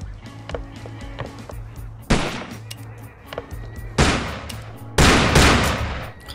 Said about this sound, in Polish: dwa strzały i nie trafiłem, przecież celowałem prosto w niego